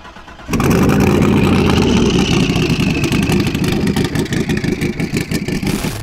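A built 875 hp turbocharged C6 Corvette time attack car with sequential shifting fires up, then settles into a loud, choppy, pulsing idle close to the microphone.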